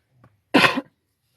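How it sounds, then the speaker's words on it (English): A single sharp cough, close and fairly loud, preceded by a faint low murmur, with silence afterward. "Sorry for my cough"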